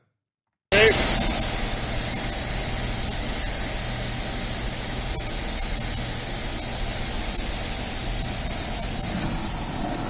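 Gas heating equipment for a large stud bolt gives a loud, constant, broadband hiss that starts abruptly and holds steady throughout, with no talking.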